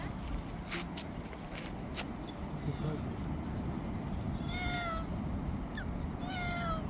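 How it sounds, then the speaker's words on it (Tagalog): A gentle cat meows a few times at a seaside spot by Marina Mall in Kuwait. The short calls stand out over steady outdoor background noise, with a few scattered clicks and rustles. "Ang bait ng pusa ito."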